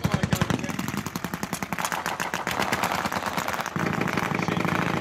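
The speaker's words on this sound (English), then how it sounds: "A lot of suppressive fire going there." Rapid bursts of machine-gun fire at a WWII battle reenactment display with American armour moving in, sharp rattling shots repeating fast and loud, over a rumbling engine idle, with firing continuing throughout.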